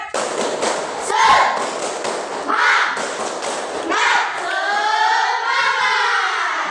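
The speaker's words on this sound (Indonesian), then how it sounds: "Ice breakingnya tepuk semangat." Schoolchildren and their teacher in a classroom do a rhythmic 'tepuk semangat' spirit clap, sharp group claps falling in patterned bursts mixed with voices chanting along.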